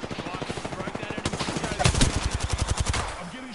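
Sustained automatic gunfire in a video game, a fast steady stream of close punchy shots rolling for several seconds before tapering off.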